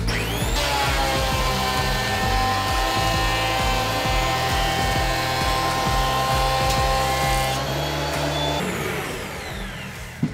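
A Dewalt DW733 planer drives a fir board through with a loud, steady whining roar and a repeated rhythmic chatter, then the pitch shifts and the noise winds down as the cut ends, with a small knock at the finish.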